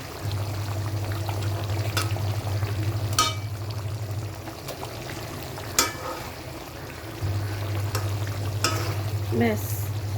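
Vetki fish frying in hot mustard oil in a pan, a steady sizzle that breaks off briefly midway and then resumes, with occasional stirring clatter and utensil knocks close by, no voices.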